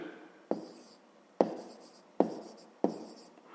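Chalk or marker strokes on a board while writing a fraction, four sharp taps each trailing into a short scratchy stroke, close and clear with no talking.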